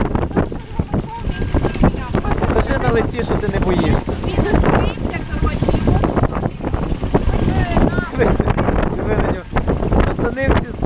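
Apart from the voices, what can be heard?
strong wind and rain in storm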